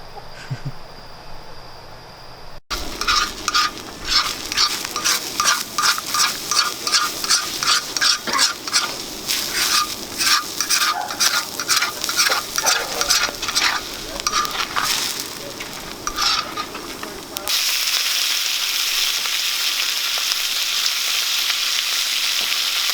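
Scrambled eggs, bacon and steak fry in a pan at a morning campsite, a steady close crackling sizzle with stirring clatter through most of the stretch, then a smoother, louder hiss near the end.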